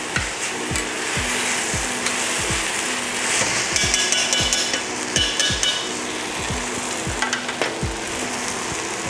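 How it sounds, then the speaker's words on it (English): Food sizzles steadily in a hot pan during a chef's cooking demonstration at West Side Market, while a spoon scrapes and stirs in a regular rhythm of repeated strokes, close and fairly loud, with no talking. "I'll just stir that for about a minute."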